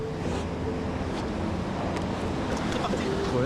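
Surf breaking fairly large at a longboard surf spot, a steady close wash of ocean waves with wind noise buffeting the microphone throughout.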